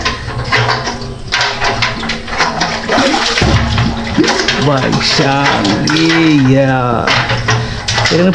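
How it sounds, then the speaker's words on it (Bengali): Water pours and splashes steadily into a bucket drawn from a well, with gurgling rising as it fills, while people talk over it. "ভরছে পানি এখন ভরছে"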